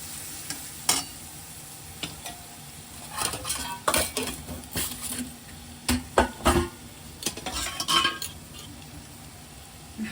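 Ground paste of onion, ginger, garlic and peanuts frying in masala in a pan, with a low sizzle broken by repeated clanks and scrapes of a metal spoon stirring against the pot.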